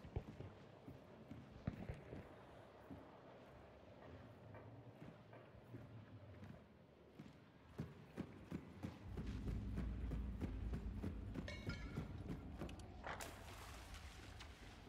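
Horse hooves from the video game Hunt: Showdown, a run of soft clip-clop beats at a distance, set against steady ambient game noise with a rising rumble in the second half.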